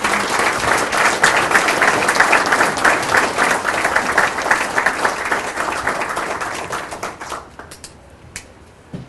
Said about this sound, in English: let's give a nice round of applause as we bring up Mr.